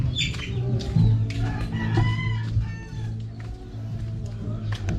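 Five chickens in a coop clucking and calling close by, a rooster-like cry rising among repeated clucks, heard under a person talking.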